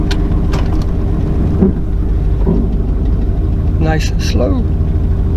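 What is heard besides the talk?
1993 Chevy Camaro Z28 backing down off the ramps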